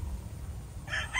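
Young rooster stags crow in a short burst near the end, after a second of low background noise.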